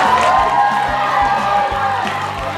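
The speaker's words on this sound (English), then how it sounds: "how about a round of applause for this exercise" A school audience claps, cheers and whoops together at a geography competition, a steady loud crowd roar with shouting voices on top.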